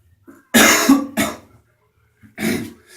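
Three close, harsh coughs in quick succession: two loud hacks together, a short pause, then one more cough, with quiet between them.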